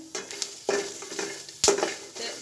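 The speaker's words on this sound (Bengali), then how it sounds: "রসুন পেঁয়াজ সব একত্রে ভাজি করা যাবে" Garlic and onion frying together in a pan on a stove, with soft sizzling broken by a few sharp utensil clinks and stirring scrapes against the pan, close and moderately loud.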